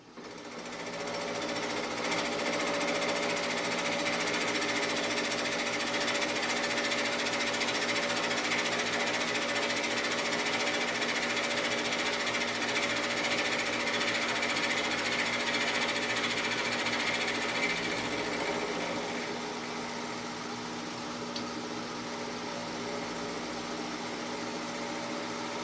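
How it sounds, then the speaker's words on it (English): A milling machine cuts the bearing cap supports of an 1880s steam drilling engine frame, a loud, continuous chattering grind with a steady motor hum that runs unbroken for the whole stretch before easing slightly near the end. "there we've completed the milling of the bearing cap supports"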